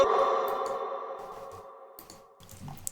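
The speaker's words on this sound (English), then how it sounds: "this is what the reverb settings sound on this first syllable" A sung vocal syllable for a music producer tag, made in FL Studio, rings out and slowly decays in a long, washy reverb tail that fades over a couple of seconds before faint noises follow.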